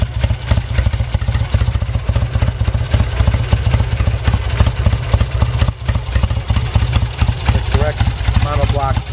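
A 1966 Triumph Bonneville twin with two Monoblock carburettors idles steadily after a cold start, its close, loud engine putting out an even, throbbing rhythm with mechanical clatter throughout.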